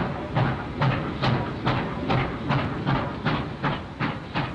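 A New Haven Railroad train with a superheated steam locomotive runs along the rails, a steady loud rumble with regular rhythmic clacking pulses roughly every half second.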